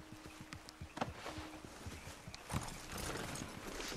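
Horse hooves clip-clop in a steady, quick rhythm in Red Dead Redemption 2, fairly close and clear, with a couple of louder thuds among the steps.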